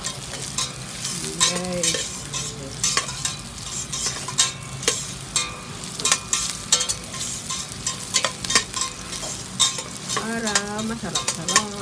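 Tulingan fish sautéing in a pan, with a steady sizzle punctuated by frequent sharp scrapes and knocks of a spatula against the pan, while a person talks briefly over it.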